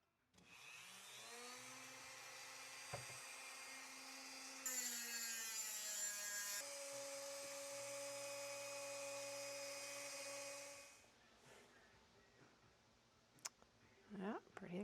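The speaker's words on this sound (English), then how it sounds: "We'll get the good old Dremel going here again." A Dremel rotary tool cutting a new tab for a late Harley Dyna seat, a high, steady whine running for about ten seconds and shifting pitch partway as it bites, then spinning down, followed by a few faint clicks.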